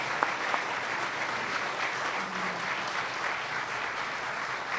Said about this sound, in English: Let's give them a round of applause for this evening.